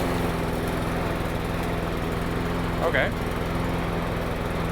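A Troy-Bilt TB360 push mower engine, freshly fitted with a new carburetor, runs steadily at a continuous close drone throughout, with a brief spoken word over it.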